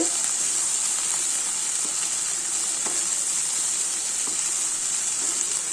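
Cauliflower frying in a pan gives a steady, even sizzle with a bright hiss that holds at a constant level throughout, with a few faint soft ticks and no talking.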